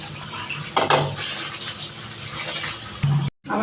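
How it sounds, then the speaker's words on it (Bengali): Two large potatoes are washed in water, making continuous close swishing and splashing with a few louder sloshes and a brief pause just before the end. "এখন আলুটা ধুয়ে নেব।"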